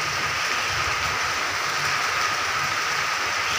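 A dense, steady hiss of heavy rain pours down without pause, loud and even, with no voices.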